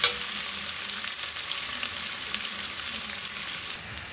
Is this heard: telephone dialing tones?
no